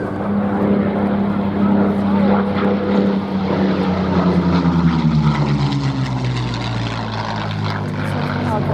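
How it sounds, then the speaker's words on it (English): A Curtiss P-40 Warhawk propeller warplane runs in from the right at the Duxford VE Day anniversary air show, its loud engine drone and whine steady and near, then its pitch drops as it passes, with a commentator talking over it. "another very versatile warplane, again running in From the right, the P-48 Warhawk."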